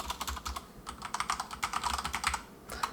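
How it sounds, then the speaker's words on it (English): Fingers tap on a computer keyboard in quick, uneven bursts of close, soft clicks, with a short pause partway through and no speech. "you'll hear me typing a little bit"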